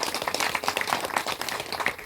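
A crowd at a village Ramayana reading claps loudly, a dense, continuous roar of many hands throughout.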